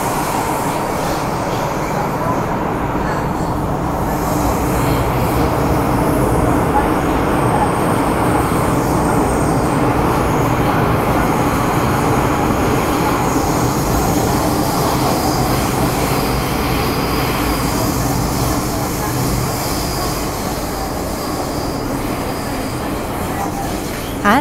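A Hong Kong metro train between Tai Koo and Tseung Kwan O runs steadily with a continuous rumble and rattle of wheels on track, the noise constant and fairly loud throughout.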